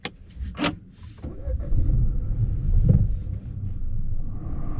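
A Peugeot 208's 1.2-litre three-cylinder turbo engine cranks and catches after a couple of clicks in a parking lot, then settles into a steady, fairly close idle.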